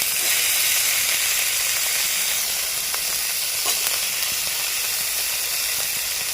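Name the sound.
stir-frying chopped carrot and vegetables for fried rice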